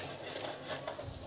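A spoon stirs chilli chicken with green chillies in a pan in a home kitchen, giving soft scraping and clinking against the metal. The sound is faint and close, with no talking.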